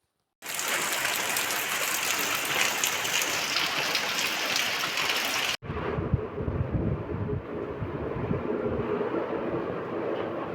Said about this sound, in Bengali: খুব জোরে জোরে বৃষ্টি পড়ছিল। তোমরা আওয়াজটা শুনলেই বুঝতে পারবে।